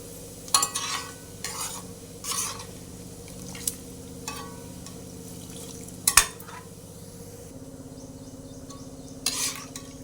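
Cumin seeds frying in hot oil in a pan while pulihora is being made, a low steady sizzle broken by several sharp stirring clinks of a spoon against the pan, close and fairly quiet.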